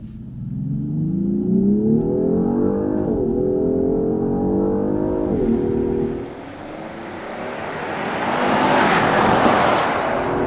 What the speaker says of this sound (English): Prestige all-wheel drive without launch control.